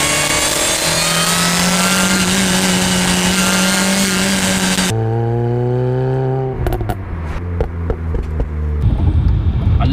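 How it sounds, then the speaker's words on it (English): An R53 Mini John Cooper Works revs hard with a loud, close exhaust note that rises steadily, then drops into sharp, choppy blips and bursts of throttle. "hopefully got you some nice exhaust and engine noises"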